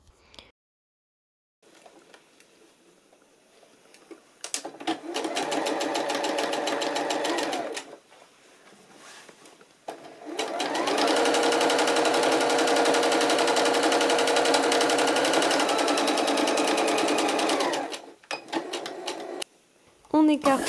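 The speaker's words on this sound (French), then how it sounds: "On va venir coudre à 1 cm du bord." Domestic sewing machine stitching trouser fabric seams 1 cm from the edge, running in two steady rapid bursts separated by quiet pauses, close and clear.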